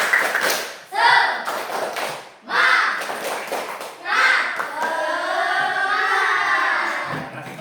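Children in a classroom perform the 'tepuk semangat' rhythmic clap game, sharp group claps in patterned bursts separated by short pauses, mixed with children's chanting voices, fairly close and moderately loud.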